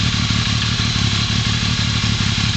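A 1978 Yamaha XS750SE three-cylinder motorcycle with stock Mikuni Mark II carburetors runs steadily nearby, a close, continuous engine burble with fast mechanical clatter and no voices.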